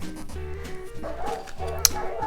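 Several dogs bark and yip in quick bursts, close and fairly loud, with a sharp higher yelp near the end.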